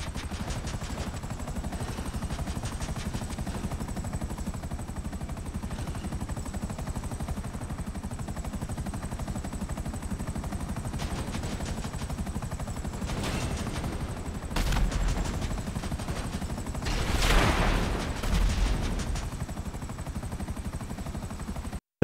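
Buzzard attack helicopter in GTA Online flying through an underground tunnel, its steady rotor and engine drone continuous throughout, with louder bursts resembling gunfire near the middle and toward the end.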